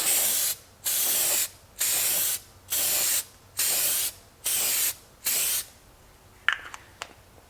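Headlight coating is sprayed from an aerosol can onto car gauges in seven evenly spaced, close, loud hissing bursts, each about half a second long, followed by a few faint handling clicks.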